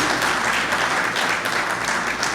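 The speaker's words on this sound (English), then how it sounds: "please let's give our president a real big round of applause" A steady wash of dense applause fills the hall for a university president at an award ceremony for the University of Guyana, loud and continuous throughout.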